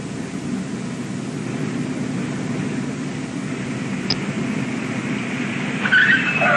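A car skids under hard braking in an old driver-education film, a steady rushing tire-and-road noise with a brief squeal rising near the end, no voices.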